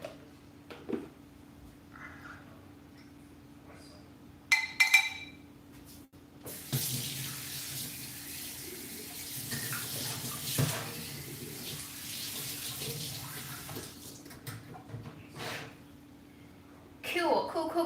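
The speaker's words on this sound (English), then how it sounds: "let me rinse this off." A kitchen tap runs water to rinse something off, a steady splashing stream of about ten seconds with brief bursts before it, and a person speaking intermittently around it.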